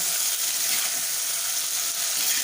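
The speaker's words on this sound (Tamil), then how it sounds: "தக்காளி நல்லா வதங்கட்டுங்க" Tomatoes sauté in a hot pan for a sea prawn curry, giving a loud, close, steady sizzle with no break.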